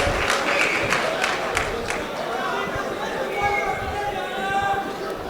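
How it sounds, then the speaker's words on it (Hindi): At a Hindi-Urdu poetry mushaira, a crowd bursts into scattered clapping and cheers that soon fade into murmuring chatter, with a voice speaking over the room. "तालियां आनी चाहिए भाई, वाह वाह वाह"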